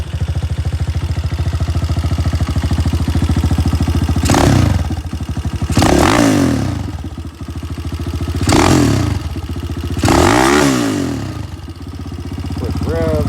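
A Hawk 250 dual sport motorcycle, sold as the TBR7, idles steadily up close with a loud, even engine putter, broken by several brief throttle blips, while someone talks over it.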